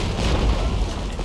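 Artillery solid shot explodes in an Empire: Total War battle, a dense, heavy rumbling boom filling the short stretch with no voices.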